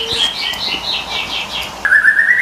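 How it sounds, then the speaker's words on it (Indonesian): A cucak jenggot Jawa, a songbird kept in a cage indoors, sings a close, bright run of varied chirps and whistled phrases, ending in a louder rising trill. "Ini ada cucak jenggot Jawa"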